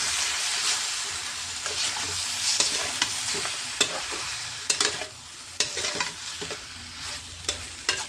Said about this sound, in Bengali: আর বেশ খানিকটা কাশ্মীরি মির্চ দিয়ে এবারে এটাকে আমি নাড়াচাড়া করতে থাকবো।